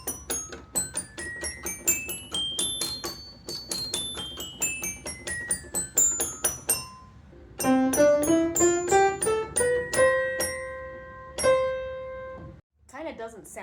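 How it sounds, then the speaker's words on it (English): An antique toy piano, repaired with duct tape, plinks a bright, bell-like scale up and down, then a second, lower run of notes follows, each tone thin and ringing, with a brief voice at the end. "And here it is on the tiny piano."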